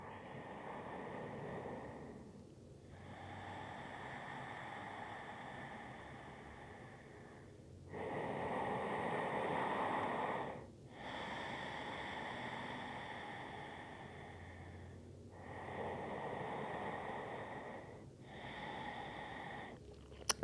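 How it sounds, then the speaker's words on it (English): Slow, deep breaths during a gentle evening yin yoga class, long airy inhales and exhales in broad swells with brief pauses between them, close and fairly soft, repeating for several rounds with no talking. "Let's take 3 more rounds of breath here."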